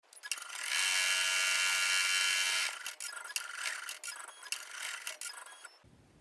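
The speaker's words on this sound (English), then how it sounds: "Now we're going to go back to the machine and sew the placement." An embroidery machine stitches the placement line onto fabric for an in-the-hoop face mask, a loud steady mechanical whir for about two seconds, then a choppier run of stitching and clicks before it stops.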